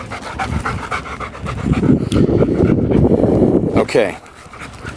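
Two dogs pant and shuffle about close by, steady heavy breathing with movement noises for about four seconds, while a person talks over them before it quiets.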